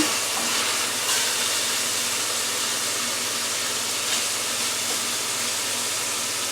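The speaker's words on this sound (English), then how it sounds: "now I'm going to add the onion" Chopped onion hitting a hot wok for beef fried rice, a loud, steady broadband sizzle that hisses continuously without pause throughout.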